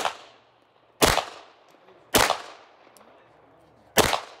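Springfield Armory 1911 9mm pistol fired at an outdoor shooting stage, four loud sharp shots spaced about a second apart with quick decays between them.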